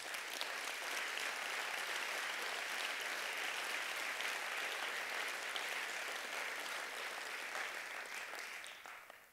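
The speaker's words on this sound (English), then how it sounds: "A warm applause for all the people who contributed also, not only to the opening, but the rest." An audience at the opening of the Forum on European Culture 2018 claps steadily and warmly, dense applause filling the room for about nine seconds before fading away at the end.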